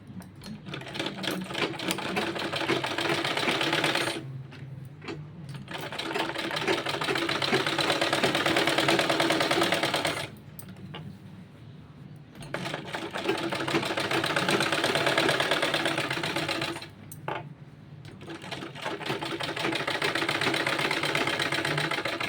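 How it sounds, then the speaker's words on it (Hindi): Close and steady, a sewing machine top-stitches a seam on a small child's kurta in three long runs, pausing briefly twice between them, with no voices. "यहाँ पर अब इसको दाब सिलाई चलाना है इसके ऊपर"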